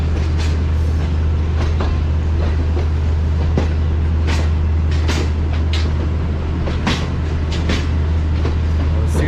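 A train pulls into Wazirabad Junction, a loud steady rumble with a deep hum underneath and repeated clicking rail knocks scattered throughout, close by and unbroken.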